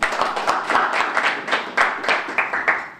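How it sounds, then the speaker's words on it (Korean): Audience applause at a parliamentary forum in Korea on building a biotech lab hub, as a speaker is introduced; a dense, steady round of clapping from a seated crowd with sharper individual claps standing out near the front. "큰 박수 부탁드리겠습니다."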